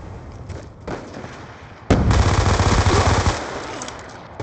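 Gunfire in the Black Ops II video game: scattered distant shots, then a sudden loud burst of rapid automatic fire lasting over a second before fading to lighter shots.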